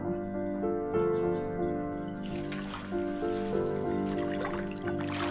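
Water trickles and gurgles steadily at an outdoor water spot, with a continuous low tonal hum and a busier splashing wash rising in the second half, no voices present.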